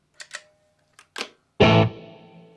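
A guitar runs through a Mooer Ocean Machine pedal set to a hall reverb: a few soft clicks and plucks, then one loud struck chord that blooms and fades away in a long, spacious tail.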